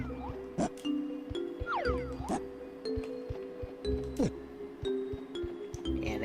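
A bell chimes repeatedly in Donkey Kong 64 over a steady game music bed, with bright, ringing tones and short pitch sweeps recurring every second or so, clear and up front.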